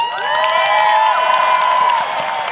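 An audience at a Hunter College event cheering for Jeanette Bayardelle, a loud, dense burst of whoops and shrill crowd cheering that holds steady from start to finish.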